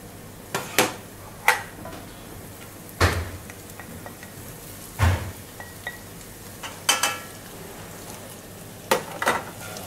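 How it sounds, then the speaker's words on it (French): Lardons sauté in a hot pan, a soft continuous sizzle broken by several sharp clinks and knocks of utensils against the pan, moderately close with no talking. "Là, on va faire sauter nos lardons"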